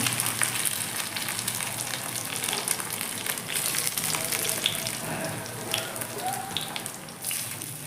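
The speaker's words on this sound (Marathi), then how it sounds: "हे सर्व भाजून घेऊया छान आलटून पलटून भाजून घेऊया" Ingredients for poha roasting in a pan, a continuous crackling sizzle with scraping as they are turned over, close and fairly even throughout. No one speaks.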